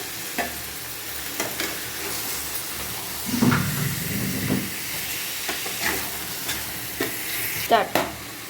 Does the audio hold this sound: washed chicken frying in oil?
yes